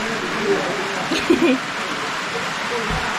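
Steady hiss of rain falling, a soft even wash throughout, with a brief murmur of voices in the middle.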